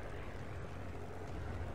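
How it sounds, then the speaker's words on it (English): A damaged aircraft engine in the War Thunder air combat game produces a steady, rough, broadband drone with a heavy low rumble. It stays constant and moderately loud throughout, with no voices. "But if you hear my engine, yeah, I believe he knocked my engine out"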